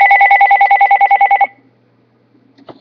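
A phone rings nearby in a kitchen during the making of a honey teriyaki chicken pizza. A loud, pulsing electronic ring trills for about a second and a half, then cuts off into near silence with a faint clatter.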